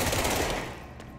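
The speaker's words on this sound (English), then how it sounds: "I got a SMG. I got a machine pistol, guys." An SMG machine pistol fires a rapid burst in the video game Control, a loud, fast rattle of shots that fades out in the last half second.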